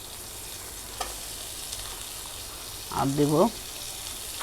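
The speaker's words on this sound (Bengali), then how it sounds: "এগুলো এখন তেল ভেজে নেব" Green chilies, onion and garlic fry in oil in a home kitchen with a steady, low sizzling hiss throughout. A voice briefly speaks over the frying near the end.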